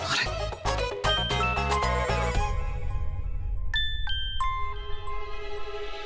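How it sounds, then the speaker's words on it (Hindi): An incoming-call ringtone sounds on a phone in a Hindi television drama scene. Rhythmic melodic tones and beats come first, then a few bright, separate electronic chime notes ring out over a low background hum. "इसका फोन आ रहा है।"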